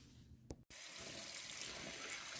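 Water runs steadily from a faucet into a sink while a grill pan from a Ventray EL-GRILL electric indoor grill is washed, a brief clunk at the start and then a continuous, fairly loud rushing stream.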